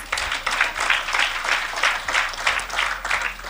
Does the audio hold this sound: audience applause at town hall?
yes